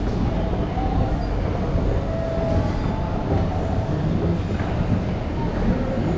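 A train running near Bali airport, heard from on board as a loud, steady rumble and rush of wheels on track throughout, with wind buffeting and no voices.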